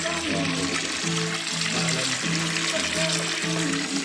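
Cold spring water flows continuously at an outdoor bathing spot, making a steady rushing wash with voices murmuring faintly in the background.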